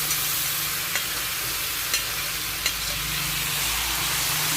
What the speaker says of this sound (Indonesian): kita panaskan minyak, kemudian kita masak cabenya